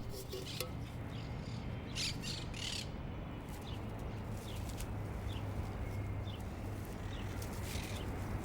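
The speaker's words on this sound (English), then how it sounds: "Monk parrots have built huge communal nests high up on the floodlights." Monk parrots squawk around huge communal nests on floodlights in Brooklyn, a scatter of short harsh calls above a steady outdoor hum.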